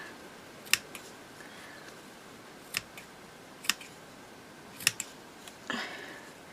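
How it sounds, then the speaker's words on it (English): Scissors snip a small piece of fabric off a handmade journal cover, giving several sharp, quiet clicks spaced a second or so apart over a faint room hiss, with a slightly longer rustle near the end. "Let me just cut this little piece of fabric off here."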